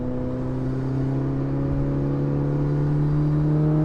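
A Mitsubishi Lancer Evolution 8 engine pulls steadily under acceleration, its loud, close drone rising smoothly in pitch from inside the all-wheel-drive car as the throttle comes on, with no talking.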